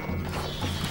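Horses of horse archers in the Stronghold Crusader strategy game give a brief burst of hooves and a whinny, loud and dense in the game mix.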